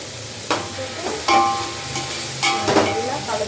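Chopped tomatoes are stirred in a hot pan: a spatula scrapes in several strokes over a constant sizzle, loud and close.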